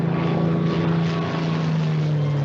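Propeller airplane flying in a 1956 movie, a loud, steady droning engine hum that holds constant throughout, with no talk.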